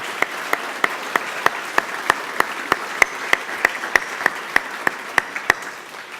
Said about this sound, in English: Would you join me in giving a big round of applause to Patricia, Neil, and the crowd?